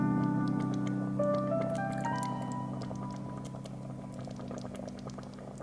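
Chili con carne simmers in a covered pot on medium-low heat, giving soft, scattered bubbling pops and light patter over a steady low hum, with faint tonal sounds behind it, gradually easing in volume.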